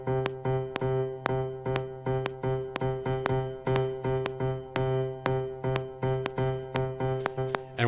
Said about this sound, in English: I'm going to focus on clave,